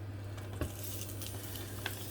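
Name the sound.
searing surf and turf on a griddle pan, sizzling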